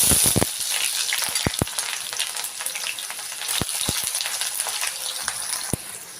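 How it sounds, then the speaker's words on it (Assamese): A bay leaf sizzles in hot oil in an iron wok, a loud continuous frying crackle with sharp spitting pops scattered throughout, no talking. "তেলখিনি এতিয়া গৰম হৈ গৈছে, মই এতিয়া ইয়াত এখিলা তেজপাত দি দিম।"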